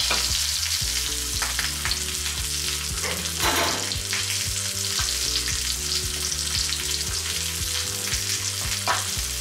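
Wild game, such as boar or venison, fries in a pan over low heat with a loud, steady, close sizzle and crackle. Faint stirring and scraping run underneath, and no one speaks.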